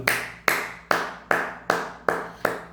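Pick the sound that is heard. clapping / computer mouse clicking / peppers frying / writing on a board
clapping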